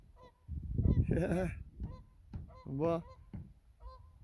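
Geese honk repeatedly from the water at a lakeside in St. Albert, Canada in May, loud nasal calls in bursts, with a person's voice briefly exclaiming over them.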